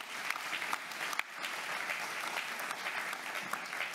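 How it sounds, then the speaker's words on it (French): Sustained audience applause fills an opening session of an economic inclusion summit in France, steady and dense clapping from a sizeable crowd with no talk over it. "On peut l'applaudir."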